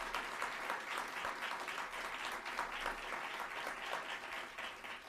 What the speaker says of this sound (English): Please give these individuals a rousing round of applause.